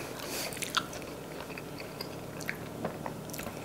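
Crunchy bites into a churro dipped in thick chocolate, a few sharp crackling snaps close up followed by soft chewing, with no talking.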